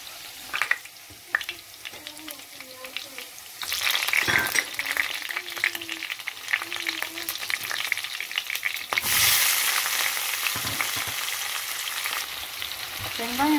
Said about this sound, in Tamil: அது எண்ணெய் சூடான கடுகு சீரகத்தை சேர்த்துடலாம்.